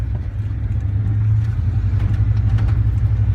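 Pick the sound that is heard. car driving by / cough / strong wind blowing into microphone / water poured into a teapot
car driving by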